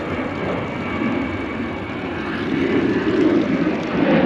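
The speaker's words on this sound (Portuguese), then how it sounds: "Há aqui um avião, o aeroporto é mesmo aqui ao lado" A fixed-wing airplane flies near an airport, a steady broadband engine roar that swells slightly louder toward the end, with no voices over it.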